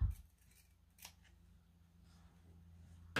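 Scissors cut through fabric during a sewing project, with a few quiet, close snips separated by pauses and no talk.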